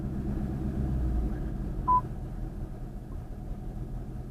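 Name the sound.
Ford Mustang chime when traction control is turned off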